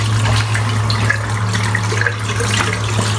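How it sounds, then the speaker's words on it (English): Tap water runs steadily under a sink while shaving soap is rinsed from a badger brush and razor, a constant close splashing stream with no talking. "So I'm going to rinse the soap out."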